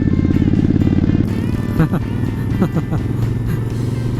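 Two motorcycles with four cylinders between them ride together, their steady, loud engine drone carrying throughout, with voices talking over it.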